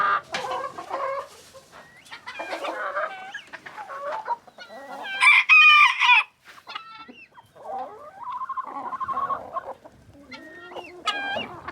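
Huge rooster with two-inch spurs clucking and calling in a chicken coop, a burst of loud crowing in the middle amid bursts of hen clucks, close and clear.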